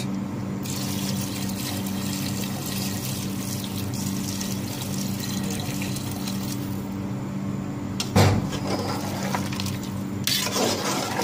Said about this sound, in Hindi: अब इसमें डाल देंगे गर्म पानी